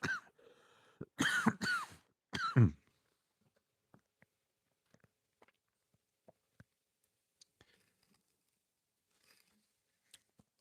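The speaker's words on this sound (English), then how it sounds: "I'm out of drink and starting to cough." A few rough coughs and throat clears up close at the start, followed by quiet with scattered faint ticks and taps.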